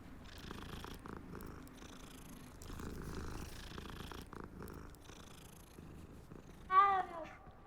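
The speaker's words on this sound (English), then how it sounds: "Oh, another cat." A cat in the Hogwarts Legacy video game, heard in the Transfiguration Courtyard, purrs softly and steadily under faint background ambience, ending with a brief, louder chirp-like meow near the end.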